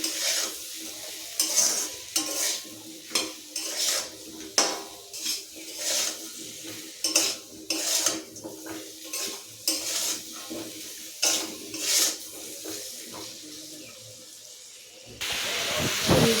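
Soybean chunks stirred and fried in a pan at home, a spatula scraping in regular strokes about once a second over a steady sizzle and hiss, ending in a louder burst of steam.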